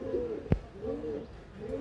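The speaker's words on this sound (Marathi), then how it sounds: "सुपर क्वालिटीचे कबूतर देतोय." Tenali-breed pigeons coo in low repeated rolls, close by, with one sharp knock or flap partway through.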